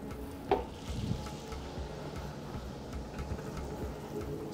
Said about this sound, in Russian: И будем обжаривать сейчас все.